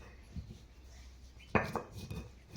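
Pickle spices are ground by hand on a stone slab, making soft knocks and then a sharp stone strike followed by scraping, grinding rubs. The sound is close and fairly quiet, with no voices.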